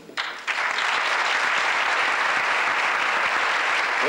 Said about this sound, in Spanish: Es Manuel Moreno Díaz, al que pedimos ese fuerte aplauso.